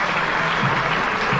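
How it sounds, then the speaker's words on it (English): A large audience at a housewares industry charity gala breaks into dense, even applause, a continuous wash of clapping filling the room. "Let's just applaud that for a minute,"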